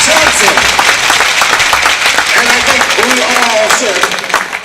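A hockey crowd applauds steadily at a varsity senior night, QC Blues against the Waterloo Warriors, a dense wash of clapping that holds for several seconds while an announcer's voice carries over it.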